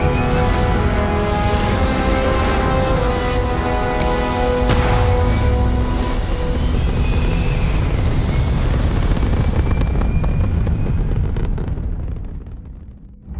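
Spaceship lifting off in the video game Starfield: a loud, sustained roaring rumble with layered engine tones that builds and holds for several seconds, then thins out and fades toward the end, with no voices.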